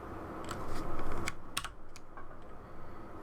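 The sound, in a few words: computer keyboard typing, keyboard shortcut in ArchiCAD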